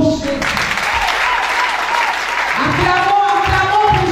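Loud, sustained applause from a church audience at a Christian ministry service fills the whole stretch, steady and dense, with a voice carrying faintly over it.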